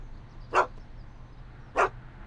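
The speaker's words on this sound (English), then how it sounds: "Why couldn't Doc have invented a dog translator?" A dog in the Back to the Future video game gives two short, sharp barks about a second apart, fairly faint against a quiet low background hum.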